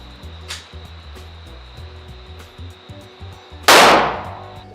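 A single loud gunshot at a shooting range rings out sharply near the end, with a decaying tail, over a background of faint clicks and range noise.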